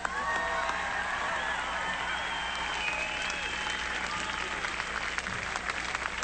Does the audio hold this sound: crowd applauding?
yes